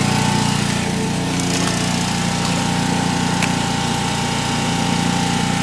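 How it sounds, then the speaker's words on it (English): A pump labouring on a plastic-to-fuel reactor processing HDPE, a loud, continuous motor drone with a steady tonal hum, running alone without talk. "It's bogging down the pump quite a bit, because that's not the strong pump."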